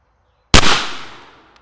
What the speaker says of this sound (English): Step back here, take a shot just so you can see how it patterns